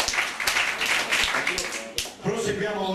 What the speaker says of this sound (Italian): Un applauso per il signore del Collegio Arcivescovile Castelli